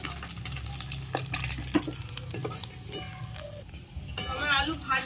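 Fried fish sizzles in hot oil with stirring and scraping from a pan, a steady crackle under occasional clinks of utensils, close and fairly loud.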